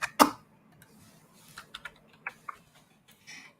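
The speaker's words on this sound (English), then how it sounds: "Currently, I'm typing slow because my cat he's stolen my hand" Slow, uneven typing on a computer keyboard, with scattered sharp key clicks separated by pauses and a brief cluster near the end, close and fairly quiet.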